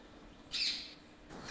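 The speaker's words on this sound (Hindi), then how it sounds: "और चिड़िया चींची कर रही है" Sparrows and other small birds chirp outdoors near a home, one bright burst of high tweets followed by a fainter second call, mid-distance against a quiet background.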